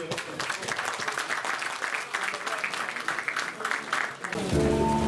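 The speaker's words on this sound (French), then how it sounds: "on peut les applaudir pour eux" An audience applauds a group being congratulated at a press event, a busy patter of many hands clapping at moderate loudness that stops abruptly near the end, giving way to a low tonal hum.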